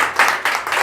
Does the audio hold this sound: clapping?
yes